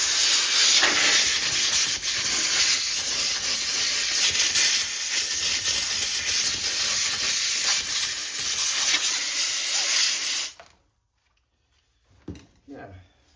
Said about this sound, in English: maybe if I use a little compressed air on it